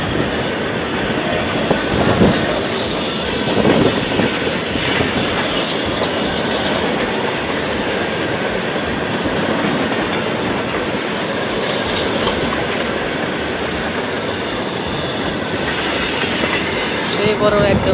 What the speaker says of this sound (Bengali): রেল আইছে, এই যে রেল আইলো, এই যে রেল।